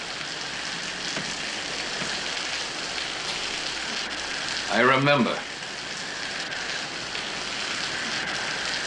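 Steady rain falls through the night, a continuous even hiss that fills the whole stretch, with a brief spoken voice rising over it near the middle.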